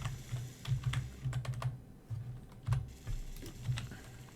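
Bursts of clicky keystrokes on a computer keyboard during a Space Engineers survival session, typed in short uneven runs with brief pauses, close and fairly quiet with no talking.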